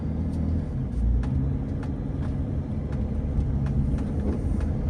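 A BMW X5 with an M57 turbo diesel, driven slowly with a boost tube loosely fitted, gives a steady low engine rumble with faint rattles and clicks, continuous and close inside the cabin.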